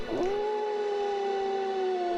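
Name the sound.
loud howling from the river banks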